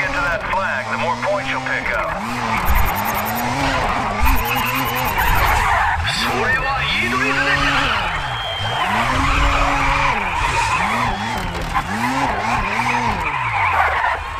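A Mazda RX-7 drifts in the Grid racing video game, its tires squealing in repeated rising and falling sweeps over the engine's drone, loud and near, while a person talks throughout.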